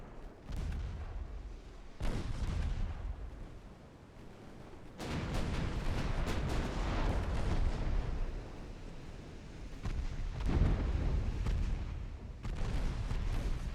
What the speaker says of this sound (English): why are you firing HE on those battleships?